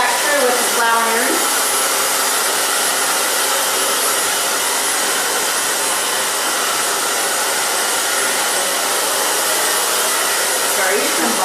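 A hair dryer blows steadily on thick layered hair, a loud continuous airy roar that holds nearly level for the whole stretch, with brief shifts in tone as the airflow moves through the hair.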